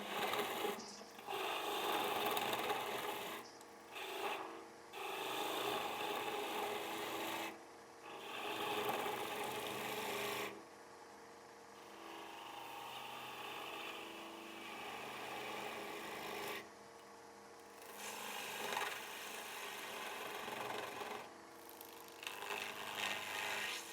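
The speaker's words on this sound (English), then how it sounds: "I'm going to do this with my larger spindle gouge." A larger spindle gouge cutting wood on a lathe while shaping a ring stand, giving a steady, loud rasping scrape that runs almost continuously, broken by a few short pauses as the tool is lifted from the spinning workpiece.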